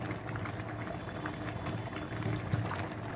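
Mustard seeds splutter and crackle in hot sesame oil while tempering a dried anchovy fish curry, giving a dense, steady sizzle with scattered pops close by. No one speaks.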